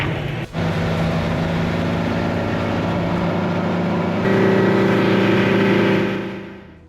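Outboard engine running on a small fishing boat, a loud, steady droning hum that shifts pitch once as the revs change and then cuts away at the end.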